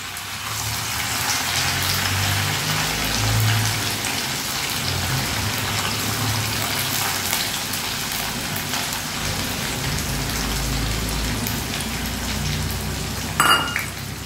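Washed gobindobhog rice frying in oil left over from frying peanuts, a close, steady sizzle and crackle that carries on evenly, with a brief utensil scrape near the end and no talk.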